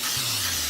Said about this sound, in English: I'm gonna take this Baker's Joy, and this already has the flour in it. And then I'm going to spray the whole sheet.